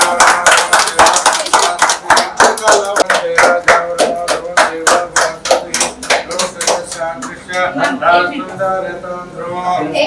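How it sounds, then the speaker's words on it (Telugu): Steady, rhythmic hand clapping from a group at a ceremony, sharp and close, continuing for several seconds while voices chant and talk alongside. "చప్పట్లు కొట్టండి"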